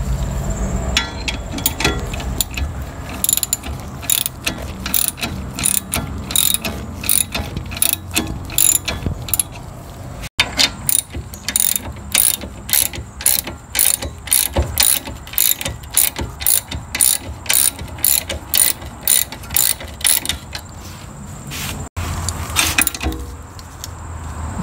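Close ratchet wrench tightening steering knuckle nuts on a Toyota Camry during a wheel bearing and loaded steering knuckle replacement, with long runs of fast clicking strokes broken by brief pauses and a few metallic clanks.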